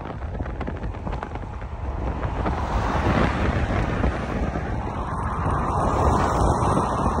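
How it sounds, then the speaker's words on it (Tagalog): Strong, cold outdoor wind in Canada rushes steadily across the microphone, a continuous loud roar that builds slightly and holds, with no talking. "Lakas nga lang talaga ang hangin."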